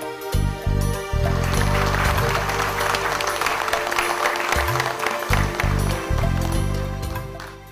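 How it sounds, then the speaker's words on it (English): Audience applause at the award ceremony of a rapid chess tournament in León in 2011: sustained, dense clapping under music playing and a voice talking, carrying on steadily before easing off at the end. "to a tremendous applause, World Chess Champion Vishwanathan Anand was"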